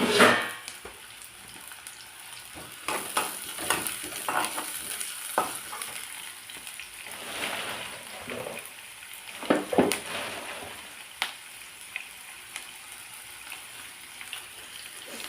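Onions frying in coconut oil, a steady broadband sizzle with scattered stirring scrapes and clatters of a spoon in the pan, close and continuous without talk.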